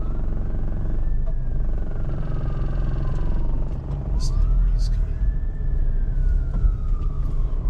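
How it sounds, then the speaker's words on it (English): A police siren wails in long rising and falling sweeps over heavy road rumble from inside a moving vehicle in city traffic at night in Toronto, fairly close. "Here's some sirens."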